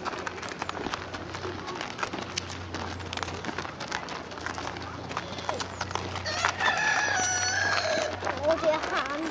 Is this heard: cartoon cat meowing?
no